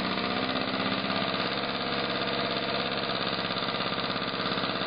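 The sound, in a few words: Graham Industries GAGE TVR1A engine running in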